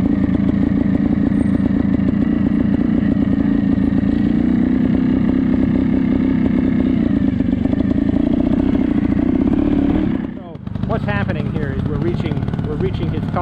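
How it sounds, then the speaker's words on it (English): A trials motorcycle engine idles steadily at close range, a continuous loud rumble that dips briefly near the end before resuming, with some clatter over it. "Let it idle"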